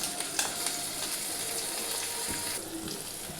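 Chopped tomato dropped into a pan of deep-browned frying onions, a loud steady sizzle with a few soft stirring knocks, close up and with no talking.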